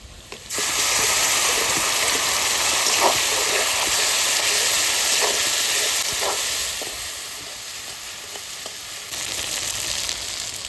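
Onions fry with spices in a pan until reddish, giving a loud, steady, close sizzle and hiss that eases slightly toward the end, with no talking.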